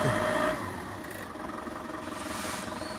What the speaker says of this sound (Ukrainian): Все працює, все гарно. Заводський тракторець, Ловол 504.